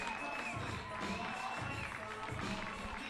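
At a WAC college baseball tournament game, a crowd applauds a departing pitcher with a steady wash of clapping and cheering that holds throughout.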